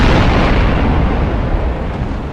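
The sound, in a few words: warship powder stores exploding in Napoleon Total War video game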